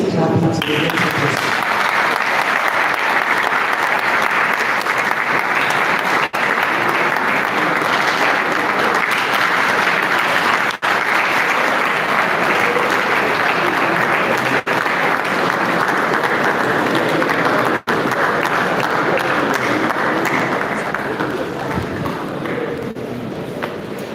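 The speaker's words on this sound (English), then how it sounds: "Let's keep clapping to the lecturers." An audience at an agricultural capacity development program opening claps for the lecturers in dense, continuous applause that holds steady and loud for over twenty seconds. A voice can be heard faintly beneath it.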